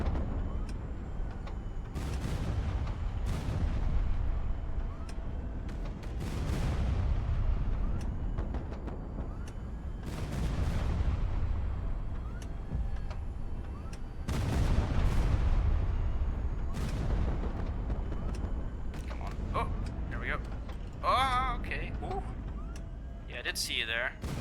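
Heavy 305mm naval gunfire and shell impacts in the video game HighFleet: repeated booming blasts with long rumbling tails, spaced every few seconds and sounding close and loud, with a few sharper electronic game effects near the end.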